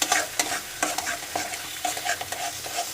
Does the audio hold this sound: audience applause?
no